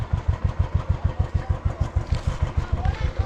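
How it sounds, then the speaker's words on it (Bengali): A motorcycle engine fires up and settles into a steady rapid idle thump, close and loud, with a voice talking faintly over it on a morning mountain road trip. "ভাইয়া কিন্তু এখন সকাল সকাল একদম কো স্টার্ট করে দিয়ে বাইক"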